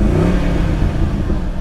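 Smooth idle of a 4.6-liter 3-valve V8 car engine with a 5-speed manual, a steady close low rumble held evenly throughout without any voices.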